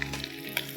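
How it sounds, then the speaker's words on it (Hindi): Sliced cabbage lands in a hot pan for Schezwan chilli rice and sets off a loud close sizzle with brief stirring clatter. No one speaks. "उसके बाद हम इसमें डालेंगे सारी वेजीज़ में हमें डालना है स्लाइस्ड कैबेज"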